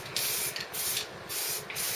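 Aerosol paint being sprayed onto a Triumph motorcycle part for a sixth coat, in four short hissing bursts of roughly a third of a second each, close and fairly loud, over a low garage hum.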